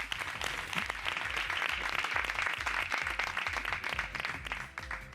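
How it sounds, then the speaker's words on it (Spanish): Studio audience on a Spanish afternoon TV show claps in a strong, sustained round of applause, dense and even with a low rhythmic thump underneath, tapering off in the final moments. "Pues, José Luis, un fuerte aplauso porque es Pamplina."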